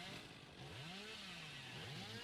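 Hillbilly's chainsaw in a video game revs in rising and falling whines, a buzzing motor swelling several times over a couple of seconds, close and clear with no talk.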